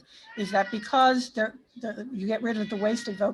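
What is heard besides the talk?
cat meowing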